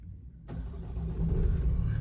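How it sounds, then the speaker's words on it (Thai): A Ford Ranger Next Gen pickup's 2.0-litre turbo diesel engine cranks and catches, then settles into a steady, rumbling idle that grows slightly louder, close by with no talking. "เครื่องยนต์ก็จะติดนะครับ"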